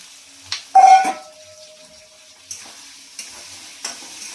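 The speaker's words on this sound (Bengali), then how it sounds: "পেঁয়াজগুলো হালকা করে ভেজে নেব" Onions fry lightly in a pan of oil left from frying pakoras, a soft steady sizzle broken by several distinct utensil scrapes and clinks as they are stirred, one with a brief metallic ring.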